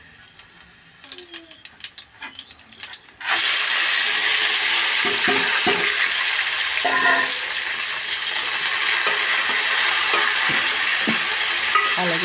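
Cumin seeds and lentils hit hot oil in a pan with a loud, continuous hiss that starts abruptly after a few seconds of quieter clinking and handling, then holds steady with occasional stirring knocks.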